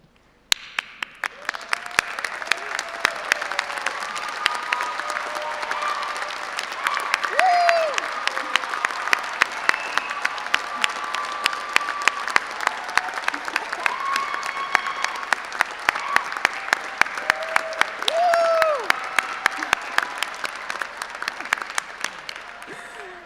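Sustained audience applause at a Birmingham City University graduation ceremony, honouring graduates' family and friends, runs for over twenty seconds at steady volume, dense clapping with a few faint voices and whistles mixed in.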